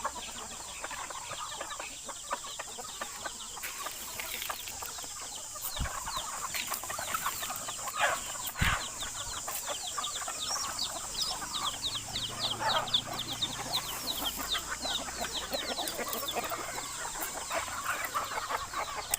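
Chickens and chicks at a home yard cluck and peep continuously, a busy layered chorus of close chirps and clucks with a few sharper knocks, no talking.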